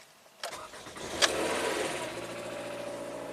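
Toyota Camry engine cranking and firing after an ECM repair: a brief starter whir, a catch, then a steady idle settling in close up, with no talking.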